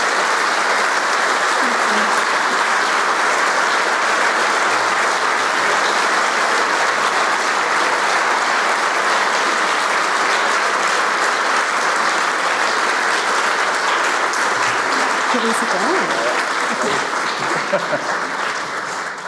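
Lecture audience at the UniSA Nelson Mandela Lecture applauding after Sally Rugg's talk, a sustained dense clapping that stays loud and steady for the whole stretch, with faint voices mixed in near the end.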